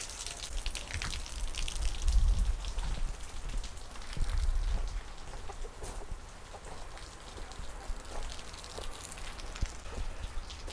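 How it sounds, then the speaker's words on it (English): Rain falls steadily in a backyard homestead, a continuous close patter on surfaces with a couple of heavier gusty swells early on, heard alone without any voices. "All right, a little bit of rain still,"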